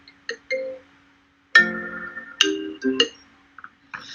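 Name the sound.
phone ringing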